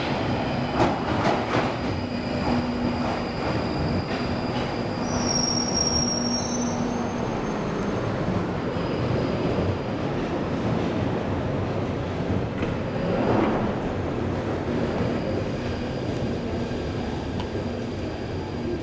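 A London Underground train pulls into the platform with steady rolling rumble and high metallic wheel squeal, squeal peaks recurring over nearly twenty seconds.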